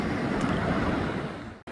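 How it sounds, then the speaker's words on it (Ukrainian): Sea waves wash onto a beach at Fontanka in the velvet season, a broad steady roar of surf mixed with wind buffeting the microphone, briefly cutting out near the end, with no voices. "Хвилі шикардосні."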